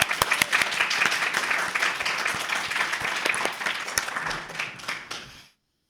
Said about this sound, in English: should we give a round of applause?